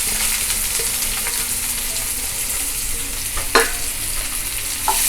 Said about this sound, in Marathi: कांदा आपल्याला सतत परतत राहून मोठ्या फ्लेमवरच करत राहायचं